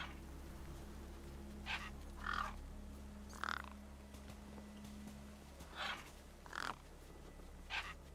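Cawing birds gather around a corpse in the video game Beyond a Steel Sky, several short harsh calls spaced irregularly over a low steady ambient hum, with no talk.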